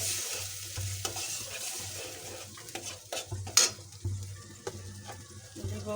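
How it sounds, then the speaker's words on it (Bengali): Ground spices sautéed with a splash of water in a pan, with steady scraping stirs and clinks of a utensil against the metal over a low sizzle, close and moderately loud throughout. "আমি গুঁড়ো মশলাটা দিয়ে একসাথে কষাই নিই"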